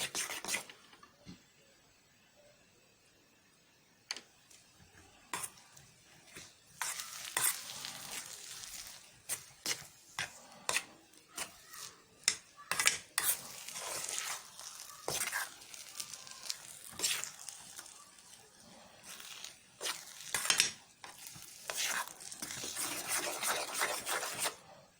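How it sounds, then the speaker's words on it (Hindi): Rice for Korean-style egg fried rice is stirred and mixed in a hot pan. Soft, irregular spatula scrapes and rubbing strokes sit over a faint sizzle, quiet at first and growing busier, with no voices. "ये हमने चावल इसमें डाल दिए। अब हम इसको अच्छी तरीके से मिक्स करेंगे।"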